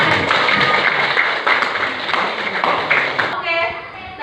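A school class applauds together, steady close hand clapping from a room of students lasting several seconds, with voices mixed in before it fades.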